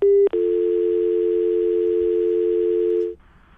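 A steady telephone dial tone sounds loud and alone after a call is hung up, briefly broken by a click near the start, then cutting off abruptly.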